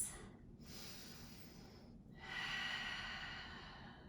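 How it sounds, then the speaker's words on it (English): Slow, deep breaths during a yoga pose, a soft exhale then a fuller inhale after a quiet gap, close and gentle against a low steady background hum. "Deep breaths."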